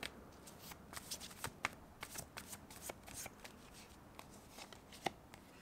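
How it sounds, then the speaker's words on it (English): Tarot cards being shuffled and drawn from the deck, quiet close riffling and flicking with sharp snaps and slaps in an uneven rhythm, no voices over it. "let's pull another card"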